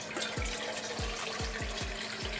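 Tap water pours steadily into a pot on the stove, filled for boiling to cook ackee and saltfish, with a continuous close splashing rush and recurring low gurgling thumps roughly every half second.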